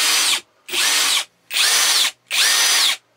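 An Aldi Ferrex Pro brushless 40V combi drill whirs in four even bursts, each starting instantly at full speed and stopping dead, with short silent gaps between, loud and close.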